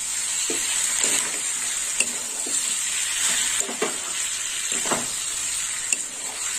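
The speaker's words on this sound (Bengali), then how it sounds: "আর একটু নেড়ে চেড়ে নেবো।" Potato and egg curry with kudri is stirred in a frying pan after salt goes in, a continuous close sizzle with repeated scraping and clinking spatula strokes.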